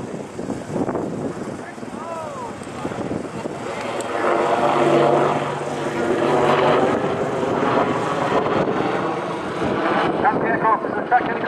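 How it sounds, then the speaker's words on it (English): Apache attack helicopter making a rapid descent at a Cosford airshow, a sustained rotor and engine roar that swells in the middle, heard at a distance with crowd noise and chatter around it. "The aircraft also needs to be able to descend rapidly as well, and the crew will now demonstrate this by conducting a rapid descent."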